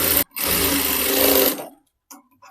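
A sewing machine runs in one quick burst after a brief pause, stitching one side of a half-collar blouse, steady and close, then stops and leaves a couple of faint clicks.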